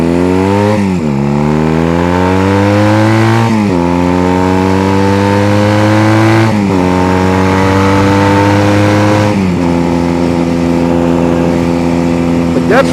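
Honda Rebel bobber motorcycle with a loud, unbaffled exhaust, ripping up through several gears in a row, each rising pull broken by a brief dip at the shift, very loud and close from start to finish.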